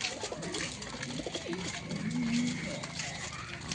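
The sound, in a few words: Giribaz pigeons cooing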